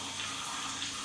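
Water drips from a tap into powder makeup product to make a paste, heard as a faint, brief trickle over a steady background hiss.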